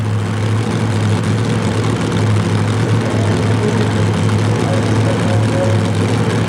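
A two-wheel-drive pulling truck powered by an aluminum JP1 Chrysler Hemi drones with a loud, steady, roaring engine note at a 1991 Pennsylvania truck pull, continuous and unbroken throughout.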